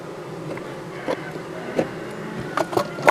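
Buzzing from a honey bee colony at the hive drones steadily and close, with a few sharper bursts as individual bees pass near.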